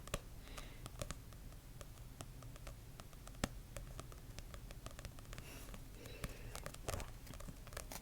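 Fingertips tap softly and rapidly on a book's flat surface, an irregular, quiet patter of many light clicks that resembles falling raindrops, with no voice over it.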